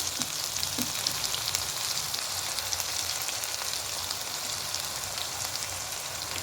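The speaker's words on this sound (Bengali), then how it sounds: "এবার খুব ভালো করে কষিয়ে নেব যতক্ষণ না মশলা থেকে তেল ছাড়ছে" Spice paste sizzles steadily in hot oil while being fried for a milk katla fish curry, a soft, even crackle that holds at the same low level throughout with no talking.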